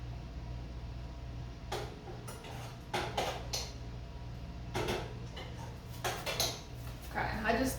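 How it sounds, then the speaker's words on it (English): Spoon stirring strawberries in a pot on a gas stove, with a few scattered clinks and scrapes against the metal over a steady low hum. "I'm just going to give a quick stir to that strawberries."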